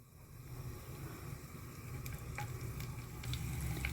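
Garlic frying in a little hot oil in a pan for a chicken feet dish, a steady close sizzle and crackle that grows slightly louder throughout, with no talking.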